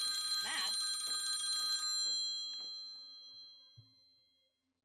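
A phone rings indoors with a bright, chiming electronic tone, a short burst of repeated rings that cuts off and fades to quiet, followed by a couple of small knocks.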